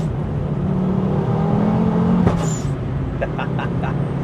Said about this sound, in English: Is that the anti-lag on? No. Just popping.